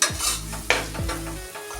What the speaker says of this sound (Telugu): ఇందులో కట్ చేసుకున్న పచ్చిమిర్చి అదేవిధంగా కొన్ని కరివేపాకు రిబ్బలు వేసుకొని మరొకసారి ఫ్రై చేసుకోవాలి